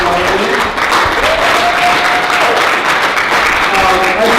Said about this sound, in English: if we can get another round of applause for the candidates and for our moderators